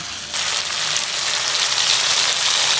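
Chicken meat sizzling steadily as it is stirred and fried in a pan, a dense, even hiss that swells after a soft start and holds close and loud throughout, with no voices.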